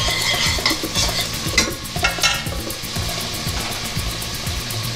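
Chopped onion hitting a hot pan for a pasta salsa verde, sizzling and frying loudly at close range with repeated stirring scrapes in a steady rhythm, no voices.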